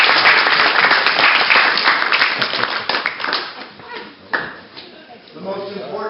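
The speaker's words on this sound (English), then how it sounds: "Give him? them a round of applause" A crowd gives a round of applause at a sled dog homestead in Denali, Alaska, with loud, dense clapping that gradually thins out while someone speaks toward the end.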